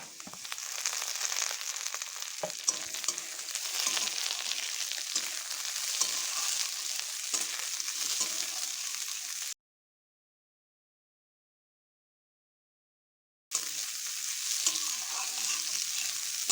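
Green beans stir-fried in a pan for quick vegetable fried rice, a steady broadband sizzle with spatula scrapes and stirring clatter, dropping out completely for about four seconds before the sizzling resumes.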